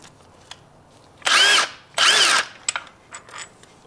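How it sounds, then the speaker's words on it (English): Two loud bursts of a power tool spin off a motor mount bolt on a 2017-2020 Hyundai Elantra, each lasting about half a second, with quieter clicks and handling noises between and after. "Okay, I'm gonna take this bolt off."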